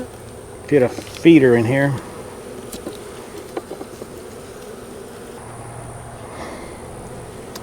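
Bees buzz around a hive box holding swarm cells, a low steady drone under a man's brief nearby speech, then continuing faintly alone.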